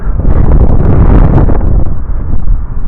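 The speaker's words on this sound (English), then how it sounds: "It's getting really windy" Strong wind buffets the microphone on a wintry New Hampshire mountain summit, a loud, rough low roar that surges and eases in gusts.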